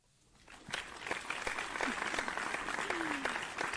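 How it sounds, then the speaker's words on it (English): Steady applause from a crowd swells in and carries on for several seconds, loud and continuous, with a few whistles rising through the clapping. "It's better if you bring your own applause track with you."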